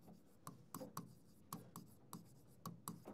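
Chalk or marker writing on a board during a biology lesson: a quiet, irregular run of short scratchy strokes and taps, close by, with no talk over it.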